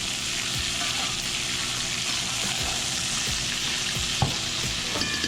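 New York strip steak sizzles loudly and steadily in a pan while being basted with brown butter, a dense continuous crackle with occasional louder pops and spoon scrapes.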